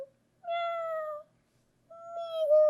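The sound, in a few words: person imitating a cat meowing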